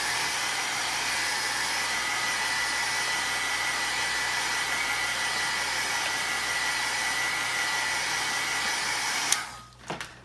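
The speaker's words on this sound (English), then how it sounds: "let me just hit this, because I want it dry so that when I put the next color on" A heat tool blows steadily at close range to dry Distress Oxide ink for about nine seconds, a constant airy whine, then cuts off with a few handling knocks.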